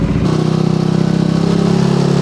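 A Yamaha Nmax Techmax 155 scooter with an open muffler revs and holds steady around 5,000 RPM, a loud, close, continuous droning engine note that kicks in after a brief quieter start.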